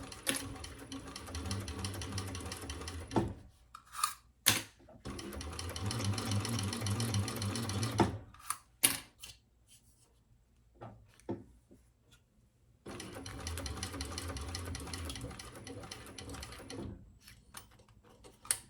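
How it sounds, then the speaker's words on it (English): A sewing machine runs a 1/8-inch top stitch along a bag, sounding in three close, steady mechanical bursts of whirring stitches separated by short pauses and a few clicks. "we're just going to do a top stitch"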